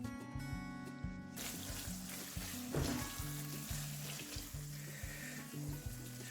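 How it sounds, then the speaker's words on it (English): Shredded ginger fries in hot oil in a karahi with mixed lamb and chicken mince, giving a steady close sizzle with bursts of crackle and a few stirring scrapes. A low repeating hum runs underneath throughout. "I'm putting some shredded ginger"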